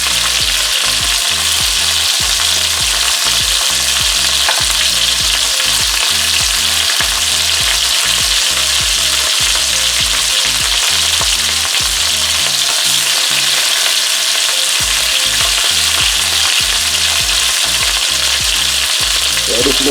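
Marinated oxtail browns in a pot for a Jamaican stew, giving a loud, steady sizzle and frying crackle with occasional stirring. There is no talk.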